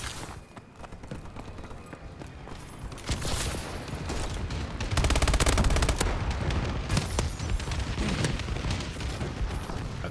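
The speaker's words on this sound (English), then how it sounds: "Friendly bombing run incoming." Dense gunfire and rumbling explosions from an airstrike in a first-person military shooter match, a sustained loud barrage that swells and peaks midway before continuing heavily.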